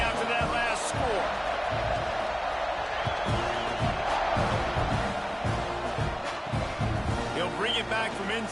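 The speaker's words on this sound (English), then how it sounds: "this crowd is buzzing after that last score" A football stadium crowd buzzing after a score, a dense continuous roar of voices with scattered whoops and cheers, steady and loud throughout, with a commentator talking over it.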